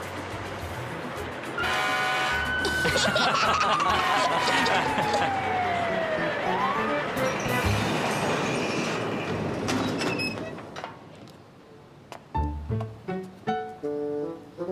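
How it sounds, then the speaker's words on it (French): A loud siren tone from a truck's roof glides slowly downward in pitch for several seconds, surrounded by clattering noises and voices, then gives way to sharp knocks. "Il déclenche la sirène qui est sur le toit du camion."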